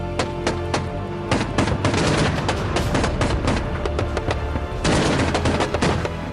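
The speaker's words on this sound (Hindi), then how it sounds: "कीव के तमाम स्ट्रैटेजिक लोकेशन पर एक बार फिर रशियन बम बरस रहे हैं" Dense, rapid bursts of gunfire and heavy booming blasts crackle continuously, loud and overlapping, as Russian bombs and artillery strike Kyiv during the war in Ukraine.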